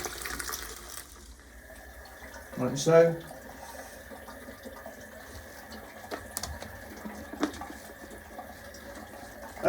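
Water rushes briefly as a modern toilet is flushed in a home bathroom, then settles into a low trickle while a person talks nearby.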